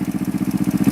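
A motorcycle engine runs close and loud for a brief moment, giving a rapid, even, chugging pulse with no talking over it.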